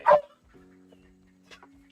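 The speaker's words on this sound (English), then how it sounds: "My little toddler dog." A pet husky barks once loudly and up close, then lets out a long, steady whine, followed by a couple of softer yelps near the end.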